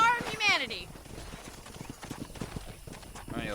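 Horse in the Red Dead Redemption video game whinnies loudly at the start and again near the end, with a steady trot of hoof clip-clops in between and speech mixed in.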